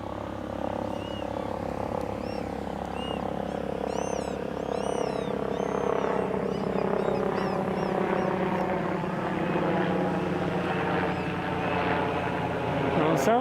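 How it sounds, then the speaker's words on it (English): A helicopter flies overhead at a shoreline birding spot, a steady, rhythmic rotor thump droning throughout and swelling slightly as it passes, with faint bird calls and a person speaking quietly beneath it. "Sounds like a helicopter"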